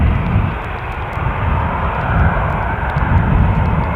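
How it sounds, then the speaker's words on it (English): A Lufthansa Embraer 190 long-range airliner passes overhead on approach to Newcastle International Airport, a loud steady engine roar that swells slightly toward the end, with no talk. "North Sky confirms that the Lufthansa incomer is just passed over."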